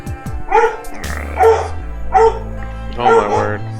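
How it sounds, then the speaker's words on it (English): Several excitable pet dogs bark loudly and close by in a home, letting out four separate yelping barks over a few seconds amid a low background hum. "I have crazy dogs."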